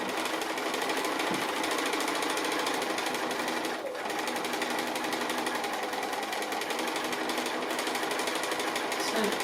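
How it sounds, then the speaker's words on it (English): A sewing machine hums in a fast, steady rapid patter as it free-motion straight stitches around the edge of an applique shape, running continuously nearby with a brief slowdown partway through. "I'm just doing a little free motion straight stitch close to the edge of the applique shape."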